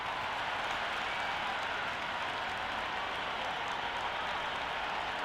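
A cricket stadium crowd during a Big Bash match, a broad, steady wash of crowd roar and applause heard at a distance with no distinct individual claps.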